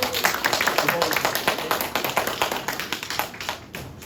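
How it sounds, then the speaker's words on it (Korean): An audience at a church youth retreat lecture applauds, giving steady, dense clapping with a fast irregular rhythm that fades slightly at the end. "두 분한테 박수 한번 해주세요."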